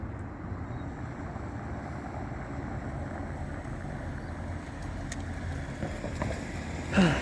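A car idles close by under steady low rumble and wind buffeting, the engine noise holding even throughout with a brief louder thump near the end.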